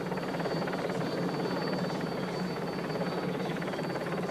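A steady, droning rotor and engine hum of a helicopter following the 1993 Paris–Roubaix cycling race, continuous and fairly loud throughout, with no voices.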